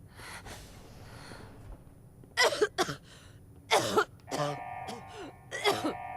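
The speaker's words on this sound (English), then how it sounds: "Hey, this is pretty interesting, having, like, just the fucking violent coughing." A character in Fallout 4 breaks into violent coughing, several harsh, throaty bursts spaced over a few seconds above quiet game ambience.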